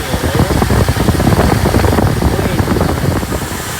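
The 7-litre engine of a 1966 Ford Galaxie idles loud and close with a lumpy, pulsing rumble, running with heavily advanced base timing, steady for several seconds with a voice over it.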